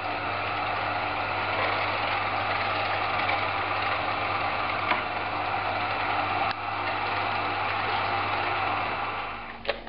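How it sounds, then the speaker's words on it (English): A meat grinder works through pork fat with a steady mechanical whir and grinding churn, broken by occasional clunks, up close and continuous, with no voices. "Now all this is going to get ran through the meat grinder 2 times."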